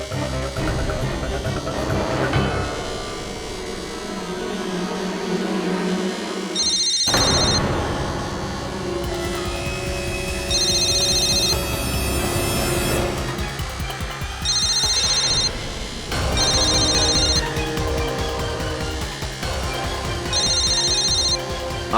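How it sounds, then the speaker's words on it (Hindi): A phone rings inside a room during a tense scene from an Indian crime drama, its repeated electronic trill bursts sounding in regular pulses amid loud background music and dramatic stings, with voices speaking in between. "मुझे पूरा यकीन है कि अगर मैं उस नंबर को डायल करूं तो वो फोन इसी कमरे में बजेगा।"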